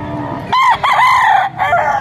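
A pure Golden Boy F1 rooster crows loudly and close by at a chicken market in Padre Garcia, Batangas: one long crow, then a shorter second burst, with no talk.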